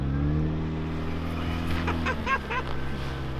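A Mini Cooper revs and drives through snow with a steady engine drone and rising, wavering pitch, its tires churning as it spins, with brief faint voices in the background.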